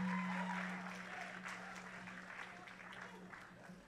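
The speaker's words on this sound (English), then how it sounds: "Please, a round of applause to all participating universities." Audience at an inter-school debate competition applauding, a steady wash of clapping that begins at full strength and slowly fades over a few seconds, with a steady tone sounding early on.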